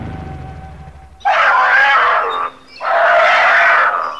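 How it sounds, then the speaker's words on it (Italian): Cartoon sound effect of a frightened tiger cub crying, two loud, shrill wailing cries with a short pause between them, following a brief low rumble. "Dottor Alec, cos'è questo rumore? Sembra un cucciolo di tigre. È anche spaventato"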